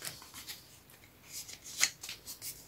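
Paper is creased and handled for a December Daily scrapbook album, giving a series of soft close rustles and crisp scrapes with one sharper snap near the middle.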